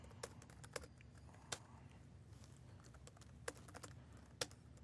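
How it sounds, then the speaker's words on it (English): Clicks from a computer keyboard being typed on, scattered irregular keystrokes that are faint and close against a low background hum. "So I'm typing Xperf Performance ETL"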